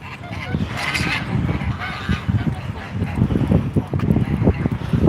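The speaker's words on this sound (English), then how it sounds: "This is a riot, a goose riot, folks." Several geese squabble at a lake, with a steady stream of harsh honks and cackles mixed with flapping and splashing, close and busy, with faint wind in the background.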